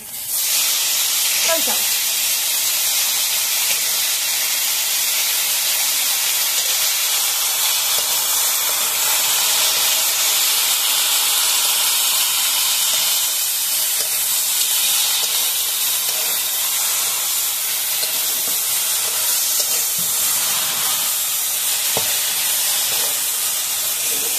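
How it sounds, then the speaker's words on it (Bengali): Boiled water lily stems land in a hot pan with fried prawns, setting off a loud, continuous steamy hiss and sizzle that stays steady and close for the whole stretch, without voices. "এখন আমি সিদ্ধ করে রাখা শাপলাগুলো ঢেলে দিচ্ছি।"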